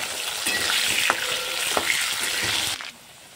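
Large cut potato pieces frying in hot oil in a wok after fish, a dense steady sizzle with occasional sharp stirring clicks, near and loud, cutting off abruptly near the end to a quiet hiss.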